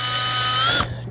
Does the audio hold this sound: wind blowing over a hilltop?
no